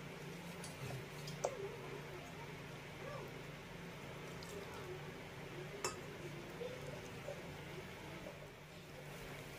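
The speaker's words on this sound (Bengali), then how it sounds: "বেসনটাকে কিন্তু এইভাবে খুব ভালোভাবে ফেটিয়ে নিতে হবে।" Gram flour batter being whisked with water in a bowl gives faint, quiet clinks and taps of the utensil against the bowl, scattered over a low background hum.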